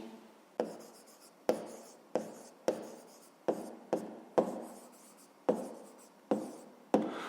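A pen writes a number on paper in a series of about ten short, crisp scratching strokes, each with a sharp onset and quick fade, close and fairly quiet, with no voices.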